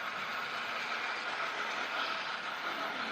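A 45-car model stack train runs along its track in a steady, continuous mechanical rumble with light rattling, close and even throughout with no talking.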